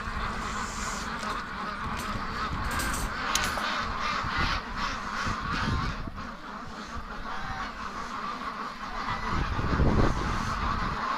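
A goose on a free-range duck farm honks repeatedly in the background amid a busy, noisy outdoor flock of ducks and other birds calling throughout.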